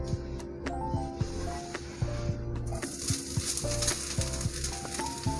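Freshly ground coconut roasts in ghee in a pan for coconut burfi, with a loud close sizzle that rises partway through and a spatula stirring and scraping in a repeated rhythm, and no talking.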